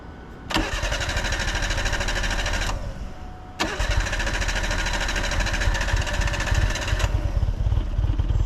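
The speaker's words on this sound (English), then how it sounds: "Well, start it up." A Suzuki car engine with a suspected throttle position sensor fault cranks and catches, runs at a steady idle, cuts briefly, then starts again and keeps running close by.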